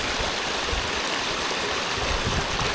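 Water rushes and splashes steadily in a full, constant roar close by, like a small waterfall pouring over rocks, with no voices.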